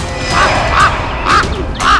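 Pet birds call four times in short, evenly spaced, loud nasal squawks, close by with a steady hum underneath.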